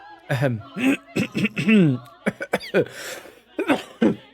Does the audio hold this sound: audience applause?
no